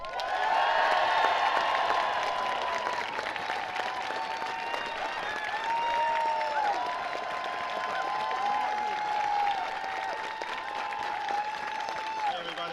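A large crowd at a March for Science rally outside the New York State Capitol in Albany claps and cheers steadily, a dense wash of applause with whoops and shouts rising over it, heard from within the crowd.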